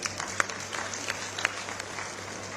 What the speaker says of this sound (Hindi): ये तो ताली आपके लिए है, आप अपने लिए ताली बजाइए।